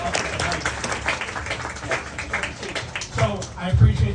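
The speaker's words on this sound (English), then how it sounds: "I appreciate that warm round of applause for Councilmember Keogh." A room of audience members at a Democratic club gathering applauds a councilwoman after her keynote, steady warm clapping throughout that swells near the end, with voices mixed in.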